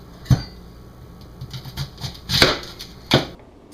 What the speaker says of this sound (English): With our onion, we're going to cut it right in half.